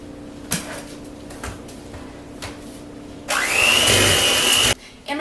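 A stand mixer works gluten-free chocolate chip cookie dough. A few sharp clinks come first, then the motor roars up loudly for about a second and a half and cuts off abruptly.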